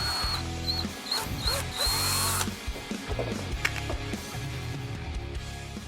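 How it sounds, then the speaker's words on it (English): A power drill bores through a 3dCarbon Boy Racer body-kit bumper for a Ford Mustang, a loud, close whine in short bursts that spin up and stop, with faint clatter of the part between bursts. "we'll go ahead and drill it"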